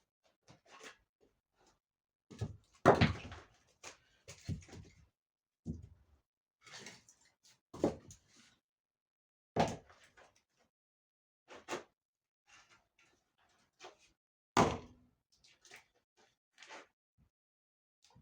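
Firewood being chopped in a village setting: irregular sharp impact thuds from an axe splitting logs, spaced a few seconds apart with quiet gaps between, fairly distant and moderate in loudness.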